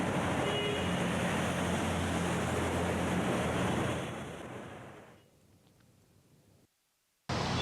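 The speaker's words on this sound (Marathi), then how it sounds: "ठाण्यात सध्या मुसळधार पाऊस कोसळतोय आणि याची तीव्रता आता आपण पाहू शकतो" Heavy monsoon rain pours onto a waterlogged street in the Vandana Depot area of Thane, a loud, steady roar that fades after about four seconds to a faint hush, drops out briefly, then returns at full strength.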